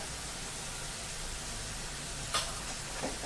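Potatoes with black masala and red chili sizzle steadily in a pan for a halwai-style bhandara potato curry, with a couple of soft scraping stirs partway through.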